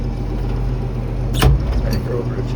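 A tractor fitted with dual rear wheels backs up during corn planting field work, its engine a steady low rumble with a sharp clunk about halfway through.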